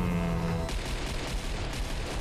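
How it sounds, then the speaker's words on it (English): Gunfire from an Agents of S.H.I.E.L.D. action scene bursts in after a short lull and continues as a dense, loud, sustained volley of shots and booms to the end. "She go to shoot Hunter instead"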